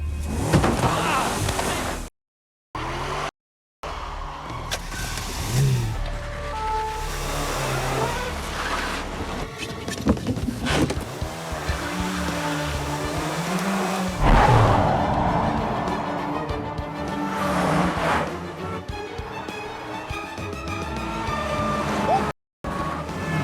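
A red Citroën ZX speeds away from police, its engine revving and roaring loudly over a long stretch, with brief dropouts and shouting voices mixed in.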